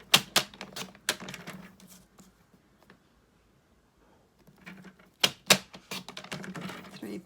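Paper trimmer slicing a 6x6 inch sheet into squares for cards, heard as a run of sharp, close clicks and taps, a quiet pause, then another burst of crisp clicks.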